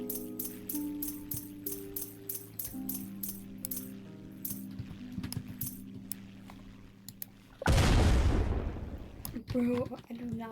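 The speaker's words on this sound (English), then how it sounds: "I do not like how it explodes every time" An explosion in a tractor-building video game bursts loudly near the end as a short, broad roar, after a stretch of clinking, tonal game sounds with a voice talking.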